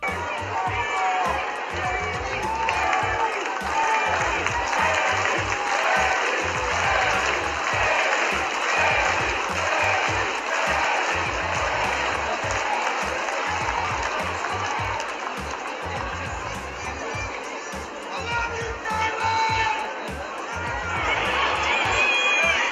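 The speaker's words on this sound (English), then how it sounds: "The crowd in attendance did chant for her while she was leaving the ring." A wrestling arena crowd roars steadily as a woman wrestler leaves the ring, a dense wash of cheering, applause and rhythmic chanting that holds at full strength throughout.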